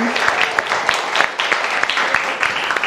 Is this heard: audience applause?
yes